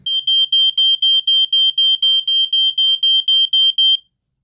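A FireX FX1218 smoke alarm sounds its test mode: about sixteen loud, piercing, evenly spaced beeps in quick succession for four seconds, then it stops abruptly, with nothing else audible.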